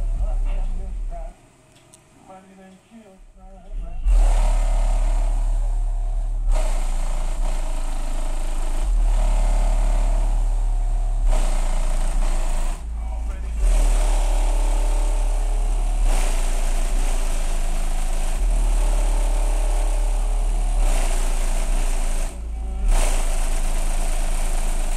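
An electric motor idling on a single battery hums steadily and fairly loudly, with a low drone and broadband whir that dips briefly a few times, and no talk is heard over it.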